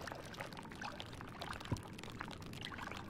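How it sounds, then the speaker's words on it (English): Water splashing in a dark interior in the horror game Amnesia Rebirth, a soft watery wash throughout with one brief sharper splash near the middle, fairly faint and heard alone. "something splashed in there"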